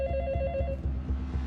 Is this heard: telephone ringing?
yes